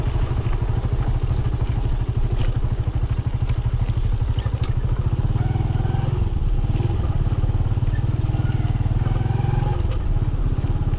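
A motorcycle engine runs steadily at close range, a constant low throbbing rumble that rises a little toward the end.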